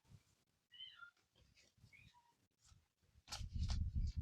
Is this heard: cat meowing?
yes